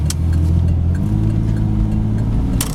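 A car engine running close and loud, a steady mid-pitched drone with slight revving and a couple of brief clicks, heard alone without talk.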